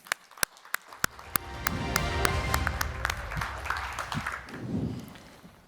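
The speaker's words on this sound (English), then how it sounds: "Let's give them a big round of applause." Audience applause for speakers on a stablecoin panel at a Berlin conference main stage, a sustained wash of clapping with sharp louder claps standing out, rising after a second and continuing steadily.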